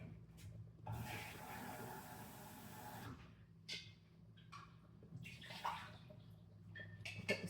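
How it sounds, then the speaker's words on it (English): A kitchen sink tap runs as a container is rinsed out, a couple of seconds of steady splashing followed by scattered clinks, drips and small handling sounds nearby. "I go rinse this out real quick"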